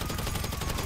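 Rapid automatic gunfire from a GTA 5 heist mission, a dense continuous burst of shots filling the short moment with no pauses, loud and close.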